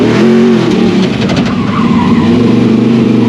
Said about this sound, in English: What is it like to be the passenger of a racing car?